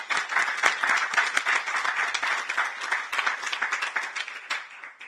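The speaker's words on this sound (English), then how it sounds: "I think we need to give you a clap" An audience at a Brussels conference event applauds together in a steady, lively round of clapping with many individual sharp claps, moderately distant and continuing throughout without speech.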